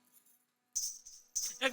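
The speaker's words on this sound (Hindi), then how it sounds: "ये पायल की आवाज कहाँ से आ रही है?" Anklet bells jingling in two short bright bursts separated by a silent gap, close and fairly quiet, with a faint low hum underneath.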